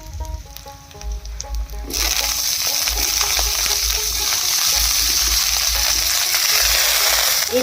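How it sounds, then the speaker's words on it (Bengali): Eggplant drops into a pan of fried onions for a winter vegetable dish with lentils, and a quieter stir and clatter gives way to a sudden loud, sustained sizzle that keeps crackling steadily to the end. "পেঁয়াজটা ভাজা ভাজা হয়ে গেছে, এর মধ্যে এবার বেগুনটা দিয়ে দেব।"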